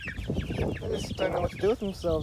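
Four-week-old chickens clucking and chirping close by while a person talks over them.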